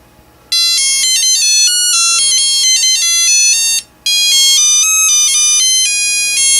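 Loud, bright electronic bleeps from a Tiger Electronics handheld game run in rapid melodic bursts, pause briefly, then continue, with no voices.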